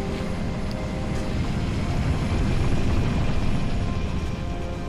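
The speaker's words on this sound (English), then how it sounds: "We still have a helicopter." Helicopter engine in the video game Halo Reach, a steady, loud rotor-and-turbine drone holding evenly throughout without any voices.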